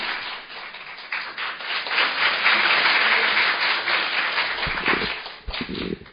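Sustained applause from an indoor audience welcoming the Korean Dietetic Association president at the opening ceremony of a forum on school dietitians' working conditions; dense, even clapping throughout, thinning slightly near the end.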